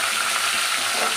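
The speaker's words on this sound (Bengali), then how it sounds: "এই তেল গরম হয়ে গেছে, আমি এই মাছগুলো ভেজে নেবো" Fish sizzling in hot oil in a pan, a dense, steady crackle close by, loud and uninterrupted for a brief moment with no voices.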